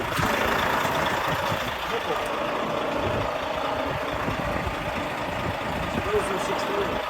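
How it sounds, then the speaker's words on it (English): A 2016 lorry's heavy diesel engine idles in a continuous low rumble, steady and fairly close throughout. "That's a 16 lorry."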